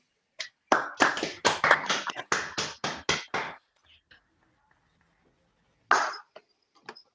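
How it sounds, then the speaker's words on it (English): Hand clapping during an online meeting, a short burst of close claps over an open microphone lasting a few seconds, then near silence broken by a couple of faint taps and one more brief clap. "let's all unmute ourselves and give a round of applause for her"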